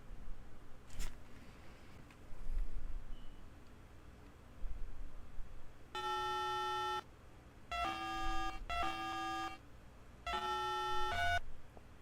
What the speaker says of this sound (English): this just sounds like a phone dialing